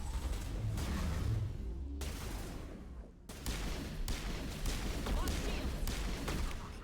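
Krogan enemies fire shotguns in the Mass Effect video game, with dense, overlapping blasts and rumbling combat noise throughout. The barrage dips briefly around the middle, then picks up again.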